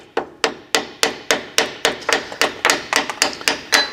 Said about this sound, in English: It might take a little bit more hammering to get them off.